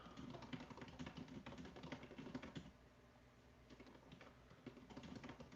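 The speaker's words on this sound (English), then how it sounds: "I hear him typing. He's typing up my newsletter for tomorrow" Steady fast typing on a computer keyboard, a busy patter of clicks that keeps going with a brief lighter stretch midway, fairly faint and heard alone.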